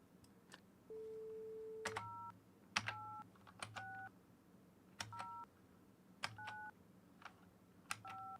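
Phone keypad dialing tones in the game My Winter Car: a quick run of short paired beeps, a few spaced presses in irregular bursts with one longer held tone near the start, clear and alone over a faint low hum.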